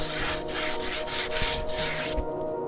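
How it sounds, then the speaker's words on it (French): Steady abrasive sanding across a wooden coffee table top, a continuous close rubbing hiss with rhythmic strokes, alone with no voices. "par un petit coup de ponçage"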